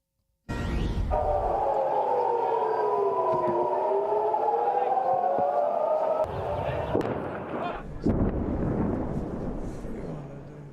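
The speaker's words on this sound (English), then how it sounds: "Warning sirens, and you can hear explosions in the background." Warning sirens in Israel wail loud and close, rising and falling in long sweeping tones, while heavy rumbling explosions and crackling booms sound in the background and continue after the siren cuts off.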